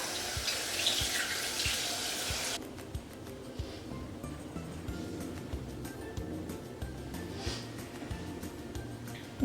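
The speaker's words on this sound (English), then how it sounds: "I'm just going to rinse this with water." Tap water runs steadily into a sink for a rinse of the face, a loud broadband splash at first that drops to a softer continuous trickle with small drips and splashes, close by and with no talking.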